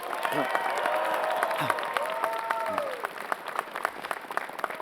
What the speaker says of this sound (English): Class, join me in a round of applause for our deans and faculty and staff.